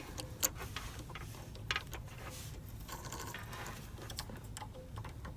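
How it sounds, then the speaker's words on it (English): Bobbin being reinserted into a Janome 6700P sewing machine, a few small, close plastic clicks and ticks, two sharper snaps near the start, over quiet mechanical handling noise. "I will reinsert my bobbin"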